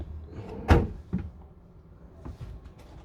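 A wooden drawer in the carpentry of a VW-based MegaMobil Reactiv 680 campervan slides and knocks shut, one sharp close thump followed by a softer bump and small rattles nearby.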